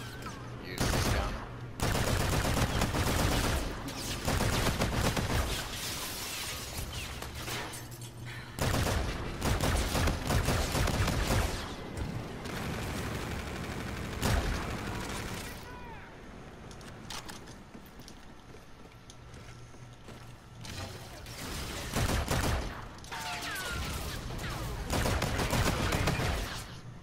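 Submachine gun fire in a shooter game rattles in long, dense, loud automatic bursts that are broken by short pauses, with fainter distant shots and faint background noise between them.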